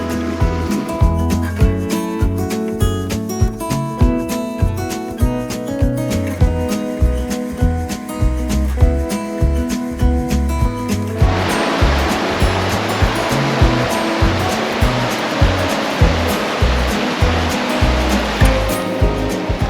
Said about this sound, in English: But we're also by a nice waterfall here, which is lovely.